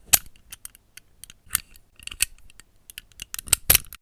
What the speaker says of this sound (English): Stuff like this lock recording adds a nice mechanical feel.